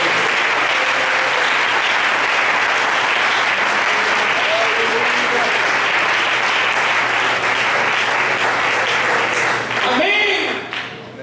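A church congregation breaks into sustained, loud applause during a Spanish-language Pentecostal service, dense clapping filling the room for about ten seconds before tapering off, with a few voices rising near the end.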